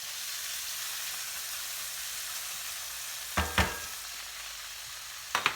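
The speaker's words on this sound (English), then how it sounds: "Getting hungry, just listen to that sizzle." Steady sizzling of vegetables frying in a pan, with a few sharp clanks of a utensil stirring near the end.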